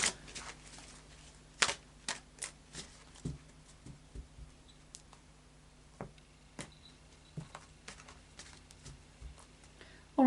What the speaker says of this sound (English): So let's just do a final shuffle of the Fairy Oracle cards by Brian Froud.